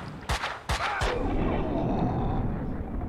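Gunfire in the video game Max Payne 2, with three sharp shots fired in quick succession followed by a rumbling, decaying tail of echo and noise.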